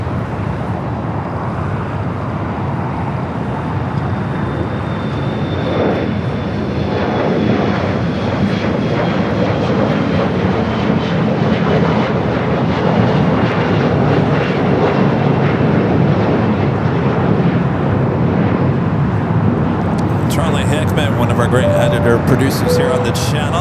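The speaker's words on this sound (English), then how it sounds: "This is JetBlue Flight 47 coming up from Boston. It's A321 Neo waiting to cross over." A JetBlue Airbus A321neo idles while waiting to cross at Los Angeles airport, its engines giving a steady whine and low rumble. A brief burst of other noise comes near the end.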